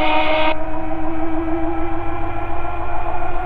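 A small aircraft engine holds a steady, loud drone as throttle is rolled in during emergency landing practice, with a bright high band dropping away after the first half second while the low roar continues unbroken.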